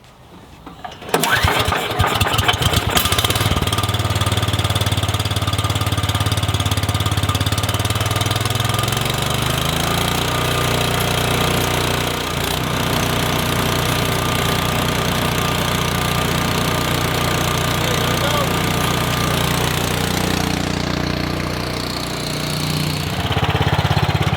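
A Cub Cadet 2X 30-inch EFI snow blower engine fires up on a pull after a brief rattle, then runs at a loud, steady, close idle with a slight shift in pitch midway.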